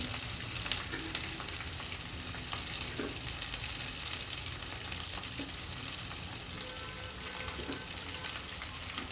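Onions and green chillies fry in hot oil with a constant close sizzle and light crackle, joined by a few soft stirring knocks, and no talking.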